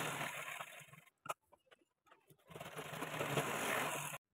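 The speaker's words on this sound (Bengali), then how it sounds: "ঠিক একই রকমভাবে অপর সাইডে টেকিংটাও সেলাই করে নেব।" A sewing machine stitches the tuck on a blouse. It runs in a steady whirring burst, pauses for about a second amid a few clicks, then starts up again and runs evenly to the end.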